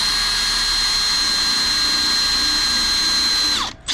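A power drill whines steadily at close range for several seconds drilling pilot holes on a Toyota Fortuner, then winds down abruptly and stops.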